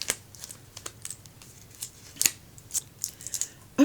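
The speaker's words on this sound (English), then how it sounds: "I'm going to unhook it from the envelope." A handmade friendship card is unhooked from its envelope, giving a run of short, sharp paper crinkles, snips and tears that come and go close up, with no speech.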